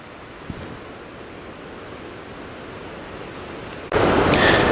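A distant waterfall at Burgess Falls, Tennessee, gives a steady, soft wash of rushing noise that swells abruptly louder for the last second.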